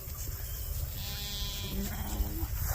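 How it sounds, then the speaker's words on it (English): Sheep bleat on a farm in wintry, rainy weather, one or two wavering calls close by over steady low background rumble. "these sheep, they do eat a lot, so we keep moving them"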